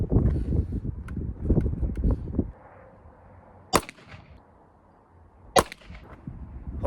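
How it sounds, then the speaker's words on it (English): A Browning Hi-Power pistol fires 115-grain jacketed hollow-point reloads: two sharp, loud cracks about two seconds apart, after a stretch of low rumbling wind and handling noise. "now we're going to take 3 shots with the Browning high power"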